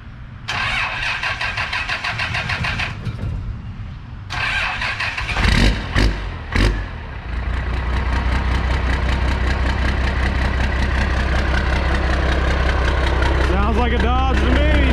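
A first-generation Cummins 12-valve diesel with no intake piping under the hood cranks, sputters through a couple of false catches, then fires and settles into a loud, steady clattering idle right by the exhaust, with voices talking over it.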